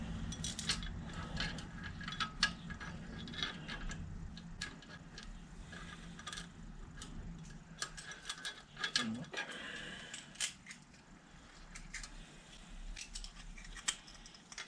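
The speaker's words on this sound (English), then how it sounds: "I'm going to try and pull it down with some bolts and washers." Bolts and washers being tightened with a ratchet to pull a liner down into a Fordson Major tractor engine, a run of close metallic clicks and clanks in a quiet workshop.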